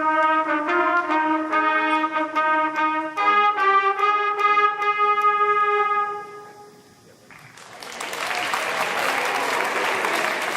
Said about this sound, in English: And now we have the second trumpet part of the melody, but not all of it.